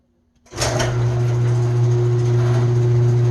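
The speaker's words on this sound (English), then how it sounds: "Garage door opening up." A motorized garage door starts up abruptly and runs with a loud, steady mechanical hum and rumble, close by, with no voices.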